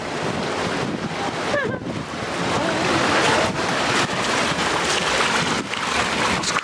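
Sea waves surging onto a cold shore, a loud continuous wash of surf with heavy wind buffeting the microphone and brief swells in between.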